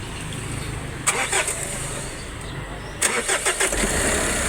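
A 2009 Mitsubishi Strada with low power and a check-engine fault cranks in two attempts, each a burst of rapid starter chugging, and then settles into a steady idle, nearby and moderately loud.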